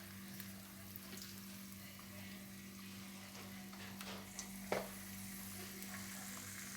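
Homemade potato fries sizzle and bubble in a fryer, a steady quiet frying hiss with a faint hum beneath and a few small clinks and pops, with no talking.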